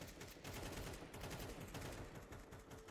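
Rapid rifle fire in a Counter-Strike 2 match on Dust 2, including scout shots, forms a dense, continuous burst of gunshots that stays loud and steady throughout, with no talking.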